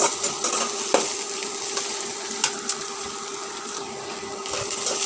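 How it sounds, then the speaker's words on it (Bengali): Spices with cloves fry in a pan while being stirred, a steady moderate sizzle with scattered scraping and clicking stirring strokes, no talking. "সব কিছু আমি সুন্দর করে নেড়ে ভেজে নেব"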